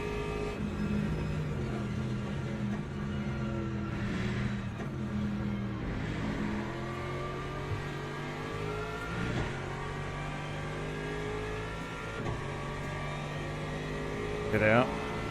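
Engines of hypercars in a racing video game drone and rise in pitch as they approach, a layered steady whine with someone talking over it.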